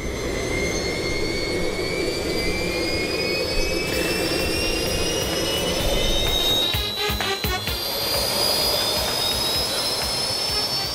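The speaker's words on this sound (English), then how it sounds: "The jets are finally running" Several small jet turbines on a homemade jet-powered car spooling up at night in a residential neighborhood, a loud sustained roar with rising whines climbing in pitch, heard alone without talk.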